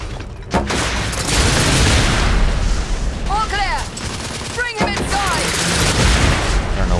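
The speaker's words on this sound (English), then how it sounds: "Green, lay down suppressive fire." Sustained suppressive gunfire in The Order: 1886, loud dense bursts and booming shots nearly continuous, with ricochet whines and brief pauses between volleys.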